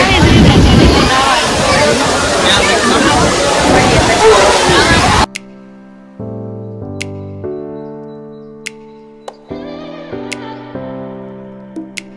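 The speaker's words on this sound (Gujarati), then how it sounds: "પાણી અહીં જાય એક નંબર માં ધોધ જાય છે. આ ધોધ છે." Rushing water of a waterfall near a temple roars loud and close, buffeted by wind on the microphone, before cutting abruptly to a quiet stretch of music.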